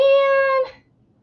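A single clear, loud meow from a house cat, close to the listener, held for about half a second before it cuts off into quiet.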